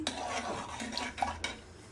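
A spoon stirs a dal mixture with turmeric in a metal cooking pot: soft repeated scrapes and clinks of spoon against the vessel, close and fairly quiet, in an uneven rhythm.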